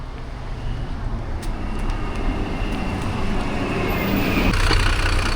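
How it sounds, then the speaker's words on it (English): A city bus pulling in to a stop in Milan, a steady low engine and road rumble that builds slowly and grows louder as it nears, set against street traffic noise. "Finally the bus is arriving."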